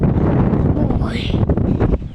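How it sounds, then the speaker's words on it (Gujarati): Strong wind buffets the microphone high up at a tower, a steady loud rushing roar with gusty swells, carrying on for a couple of seconds without speech. "હવા ભાઈ બહુ હવા આવે છે અને એકદમ ઠંડુ ઠંડુ વાતાવરણ થઈ ગયું"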